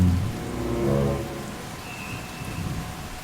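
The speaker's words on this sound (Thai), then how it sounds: "สายฝนก็ได้ตกลงมาตามคาด ที่ทำให้ชุ่มฉ่ำไปทั่วบริเวณ" Steady, dense rain pours down close by near a waterfall, a constant hiss with a faint low rumble underneath and no voices.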